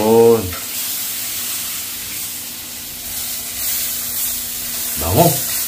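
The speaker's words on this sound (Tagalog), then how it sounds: "Lalagyan natin na bawang na." Garlic sizzling in melted butter in a heavy pan, a steady close crackling hiss throughout, with brief speech at the start and again near the end.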